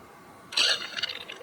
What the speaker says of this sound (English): There you go, sucking the water back in.